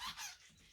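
Scallions squeaking briefly as a knife cuts them on a warped chopping board, with two faint, soft squeaks close by and no talking.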